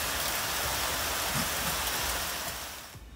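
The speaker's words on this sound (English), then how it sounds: "It was raining, now it's pouring" Heavy rain pouring down outside a home garden, a loud, dense, steady hiss of water hitting surfaces that fades slightly at the very end, with no talking.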